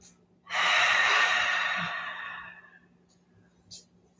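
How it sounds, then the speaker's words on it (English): A long, breathy exhale through an open mouth during a senior fitness breathing exercise: one loud, close rush of air that slowly fades, followed by a faint short breath near the end. "Exhale from the mouth"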